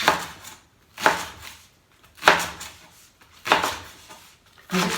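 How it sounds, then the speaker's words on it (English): A knife chopping leek into pieces on a cutting board, five evenly spaced, close, firm chops with quiet gaps between them. "I cut the leek here into these pieces, just like that, on a cutting board"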